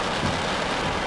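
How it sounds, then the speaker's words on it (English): Steady, dense rain patters on a vehicle during a tornado-producing storm, a constant broadband wash with no speech or distinct events. "letting the rain fall on the vehicle"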